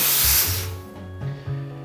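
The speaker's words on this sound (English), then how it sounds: "you have to purge the steam wand to get rid of the water" An espresso machine steam wand is purged of water before milk foaming, giving a loud, close burst of spraying steam hiss that fades after the first half second into a lower sputtering hiss with some gurgling.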